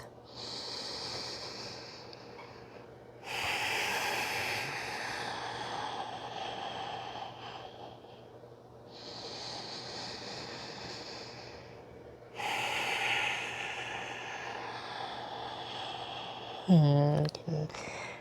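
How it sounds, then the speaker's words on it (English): Slow, deep breathing during a yoga pose: long hissing inhales and exhales alternating in a steady rhythm, close and fairly soft, ending with a brief voiced sound. "And breathe."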